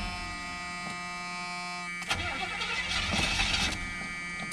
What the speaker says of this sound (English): See if it cranks.